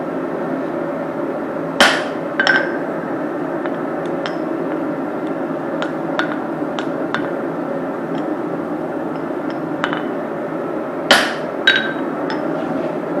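Sharp metallic hammer strikes ring out on a punch while forging a small ball peen hammer, a few spaced clusters of clanging blows over a constant roaring forge hum, with lighter taps scattered between the louder hits.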